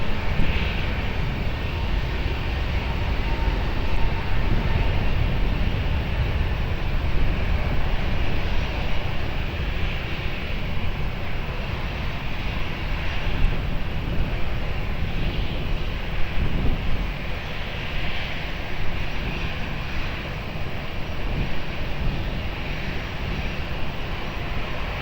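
From a distance, an airliner takes off from runway 20 at Lisbon Airport, a steady engine roar mixed with wind buffeting the microphone that persists throughout without talk.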